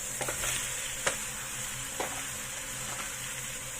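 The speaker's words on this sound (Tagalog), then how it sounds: "Ngayon, ilalagay ko na ang beef." Beef frying in a pan with browned onions gives a soft, constant sizzle with a few faint clicks of stirring, fairly quiet and without any voices.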